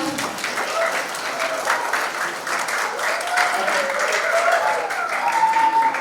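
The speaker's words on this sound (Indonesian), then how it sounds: "Boleh tepuk tangan dulu buat Bididang" Applause from an audience at a family memorial gathering, a steady wash of clapping over about six seconds, with faint voices and murmuring mixed in underneath.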